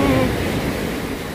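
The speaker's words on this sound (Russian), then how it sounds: "Представляете, какие сильные волны." Strong sea waves on a beach, a loud broad wash of surf rushing close by for a brief moment, with wind noise on the microphone.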